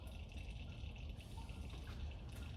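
Transmission fluid trickles and splashes steadily out of a vehicle transmission into a catch pan, a continuous low liquid rush heard close up with no talking.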